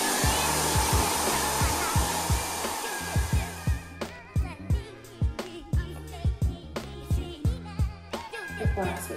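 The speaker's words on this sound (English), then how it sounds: "We call that cross drying, so sort of drying it one way, pushing it back the other, drying it that way." A hair dryer blow-drying hair, its loud steady whir running throughout, then pulsing in a regular rhythm as the airflow sweeps back and forth across the hair.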